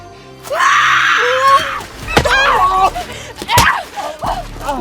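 Two men scream in pain in loud, ragged bursts that overlap and break off in gasps and groans, with sharp impact-like cracks between the cries.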